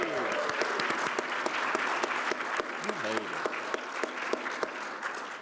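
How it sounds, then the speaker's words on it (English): Audience applause fills a room at a PAX East 2022 panel on improvisation in roleplaying games, a steady crowd clapping at even loudness for the full stretch, with a voice briefly heard over it. "give yourselves a round of applause"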